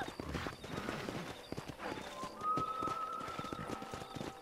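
Horse hooves clip-clopping in the Red Dead Redemption video game, a quiet, steady trot with a brief whinny-like tone partway through, with faint speech in the background.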